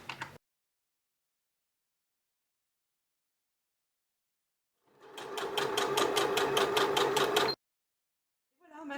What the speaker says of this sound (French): C'est parti pour la couture. On n'oublie pas les points d'arrêt.